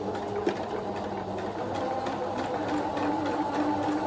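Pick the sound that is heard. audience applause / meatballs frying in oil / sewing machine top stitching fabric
sewing machine top stitching fabric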